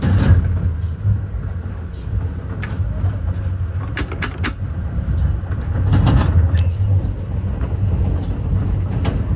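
Metra commuter express train from Chicago Union Station toward LaGrange, Illinois, running at speed near 70 mph: a steady loud rumble of wheels and cab noise throughout, with brief clattering bursts of rail joints.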